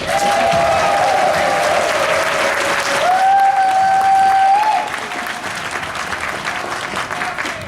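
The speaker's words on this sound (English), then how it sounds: "And then everyone clapped for him." Audience applause at a furry convention, a steady roar of clapping that fills the room for several seconds, then thins and drops lower while a tone hums over it.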